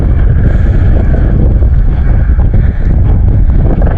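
Steady heavy wind buffeting a microphone outdoors near the San Juanico Bridge, a loud continuous low rumble with no pauses throughout.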